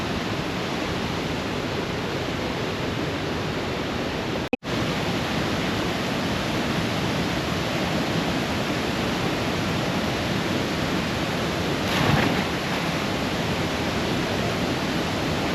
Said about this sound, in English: We try and find cool spots like this waterfall to see.